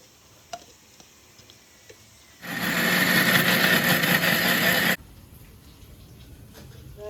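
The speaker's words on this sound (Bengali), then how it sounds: "তো এটা এখন আগে ব্লেন্ডারে ব্লেন্ড করে নিই।" A steady, loud whirring roar of a blender grinding garlic and greens starts abruptly, runs for a couple of seconds and stops, with quiet kitchen background before and after.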